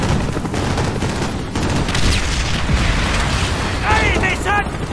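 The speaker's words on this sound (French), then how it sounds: "Artillerie." Artillery explosions boom through a Call of Duty Black Ops battle in Vietnam, a continuous heavy roar of blasts and gunfire with a voice calling out beneath, and whistling shells near the end.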